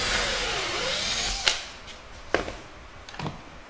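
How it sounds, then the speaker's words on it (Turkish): A power drill whirs loudly drilling dowel holes in a furniture panel, then several short sharp clicks and knocks follow as the drilling stops. "Şimdi kaval yerlerini deliyoruz."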